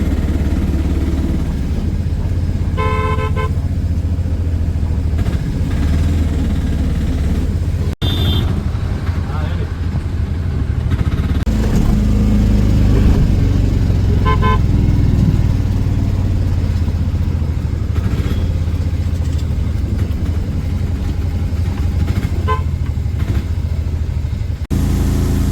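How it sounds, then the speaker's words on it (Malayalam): An auto rickshaw speeds along a road near Mookambika, its steady mid-pitched engine drone loud and continuous, with occasional horn beeps and traffic noise around it. "ഓട്ടോ നല്ല സ്പീഡിൽ പോവുകയാണ്."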